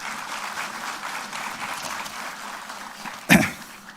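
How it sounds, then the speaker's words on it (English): Applause at a university special lecture on future wars, a moderate, steady patter of many hands clapping that is broken near the end by one sharp, loud knock or bump before the clapping fades. "Give a round of applause for him."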